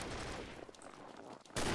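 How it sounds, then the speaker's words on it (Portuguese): Rapid gunfire crackles in the online first-person shooter Combat Arms, a dense burst of shots that thins out, then a loud new volley breaks in at the end. "a trocação de tiro está franca ali"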